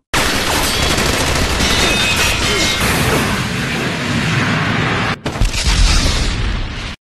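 Anime battle barrage of many weapons including missiles: a loud, continuous roar of explosions and rapid blasts filling several seconds, a sudden brief cut, then more heavy booms, with no talking.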